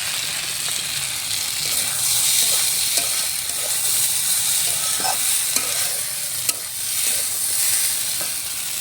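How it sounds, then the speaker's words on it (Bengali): Rice and lentils for a village-style khichuri are stirred and fried in spices in a pot, giving a steady close sizzle with scraping stir strokes and occasional sharp pops over about nine seconds, with no talking. "মশলার মধ্যে সমস্ত চাল ডালটা ভালো করে মিশিয়ে একটু কষিয়ে নিলাম"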